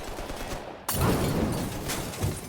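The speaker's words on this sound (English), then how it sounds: "He's gunning us down." Mafia 3 video game gunfire: after a low background rumble, a sudden, dense fusillade of shots erupts and continues as rapid overlapping bursts, loud and close.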